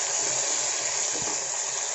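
Onions and mint fry in a pan for chicken pulao, giving a continuous bright sizzling hiss with faint stirring underneath and a small knock at the end.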